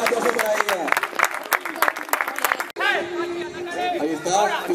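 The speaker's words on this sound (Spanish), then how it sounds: "¡Fuerte el aplauso!" Crowd applauding at a bull event with heifer work in the ring, a burst of clapping and cheering mixed with a loud announcer's voice and crowd chatter, then a whistling crowd roar carrying on under the talk.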